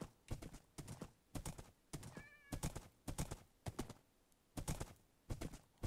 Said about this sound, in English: Did I just get a horse?